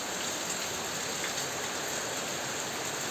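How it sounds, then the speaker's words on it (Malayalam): A downpour of heavy rain in a stormy spell with wind and lightning, a loud, even roar of countless drops striking surfaces nearby, continuous and alone. "നല്ല മഴയുണ്ടേ."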